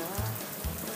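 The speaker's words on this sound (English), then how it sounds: "Oh, it's raining in a box?" Rain falls from a box on a children's television show, a steady broadband hiss of drops pattering throughout the short moment, with two low thumps breaking in.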